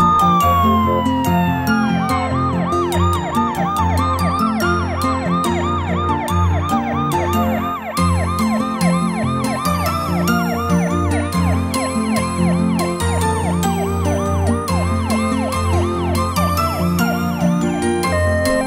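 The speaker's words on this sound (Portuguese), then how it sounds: "Ambulância." Cartoon ambulance siren from a children's toy-vehicle animation, a loud continuous wailing tone rising and falling over bright music for the whole stretch, with no talk.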